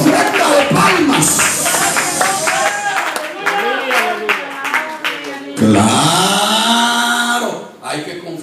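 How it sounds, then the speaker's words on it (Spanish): A church congregation claps during a service, the applause steady and close while voices call out and speak over it. A short break comes partway through, then a louder burst. "vamos a darle a Él una ofrenda de palmas"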